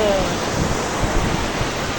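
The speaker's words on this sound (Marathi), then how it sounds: "समुद्र" Sea waves at Juhu beach make a continuous, broad wash of surf that holds steady and fairly loud throughout.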